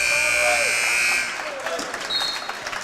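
Basketball buzzer sounding at the end of the third quarter of a high school game, a loud sustained electronic tone for about a second in a noisy gym, then crowd noise and a brief high tone.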